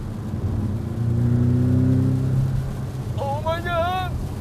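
A Porsche sports car's exhaust with the valves open swells into a loud rev and settles back, close by, before a voice cuts in at the end.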